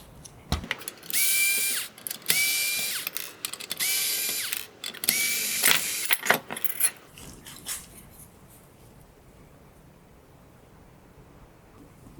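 Power driver whirring in repeated bursts while backing out small T10 Torx screws from the LED boards of a Camaro headlight, with clicks and rattles between runs before going quiet.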